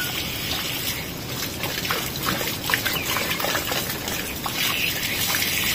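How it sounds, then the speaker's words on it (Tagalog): Water runs steadily and close by at a farm during harvest time, a continuous rushing wash with no one speaking over it. "Tubig."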